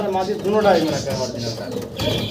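A pigeon cooing at close range, a warbling rising-and-falling coo under a voice talking.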